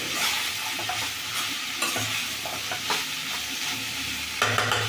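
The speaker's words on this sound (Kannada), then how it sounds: "ಇದು ಎಣ್ಣೆನಲ್ಲೇ ಫ್ರೈ ಆಗಲಿ." Okra sizzles steadily in hot oil with a little salt while a spoon stirs and scrapes the pan in close, uneven strokes.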